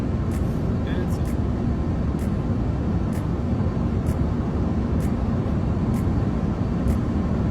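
Cabin of an Airbus A330 airliner landing at Frankfurt, a steady, loud broadband roar of engines and airflow throughout, with faint regular clicks above it.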